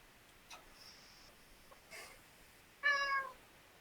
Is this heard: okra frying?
no